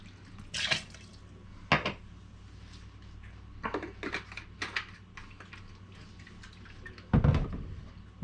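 Vodka poured into a two-sided measuring jigger for a cocktail: short splashy pours and light clinks, close and quiet, with a soft background hum.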